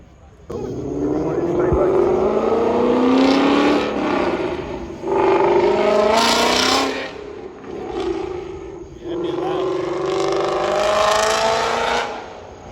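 A widebody Dodge Scat Pack rumbles through a burnout, its engine revving loudly in long rising and falling pulls with brief dips between, close by. People talk over the engine noise.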